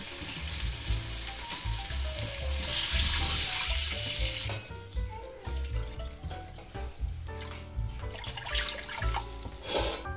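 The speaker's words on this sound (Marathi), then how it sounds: "आपण ह्या वाटीने 2 वाटी पाणी टाकणार आहोत" A loud sizzle of frying fills the first half, then two bowls of water are poured into the pan for a semolina-and-potato medu vada dish and the hiss fades into bubbling, with spoon clinks.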